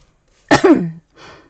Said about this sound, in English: And a cough.